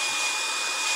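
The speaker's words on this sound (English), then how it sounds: "trusty hair dryer, which I've been using for about 20 years now." A hair dryer that has been in use for about 20 years blows steadily and close by, drying fresh ink on a dolphin drawing with a continuous, even airy roar and no other sounds.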